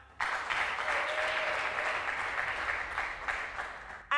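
Audience at a church congress show applauds a contestant, a sudden onset of steady, dense clapping from a large crowd that holds for about four seconds before tapering, with a faint voice briefly underneath.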